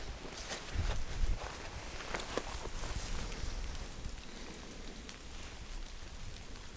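Steady rain patters on leaves and ground during a public-land bowhunt in Kansas, with soft footsteps and rustling close by under a continuous wet hiss.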